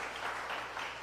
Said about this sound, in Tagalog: Yung palakpak po para kay Jesus